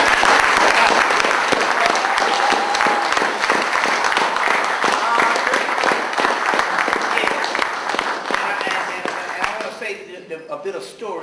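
Sustained audience applause at a lecture gathering, a dense wash of many hands clapping close and loud for around ten seconds, with a few voices mixed in, then tapering off.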